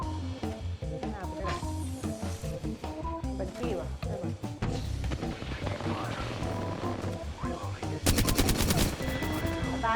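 Apex Legends gunfire on PS5 crackles in rapid automatic bursts under excited talk and game music, ending in a fast, loud volley of closely spaced shots.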